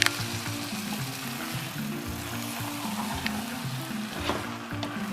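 Palava sauce, a nkontomire stew with oven-smoked mackerel, is stirred gently in a pot. It gives a steady, close simmering sizzle with soft low bubbling and faint spoon movement, and nobody speaks.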